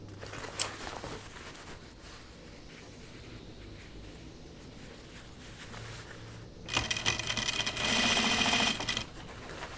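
A sewing machine stitches stretchy denim for jeans: a quiet, steady mechanical whir, then a louder, faster burst of rapid stitching near the end.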